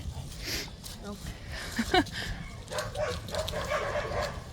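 Dogs bark and yip nearby in short bursts, with a whimpering edge, over a steady rumble of background noise.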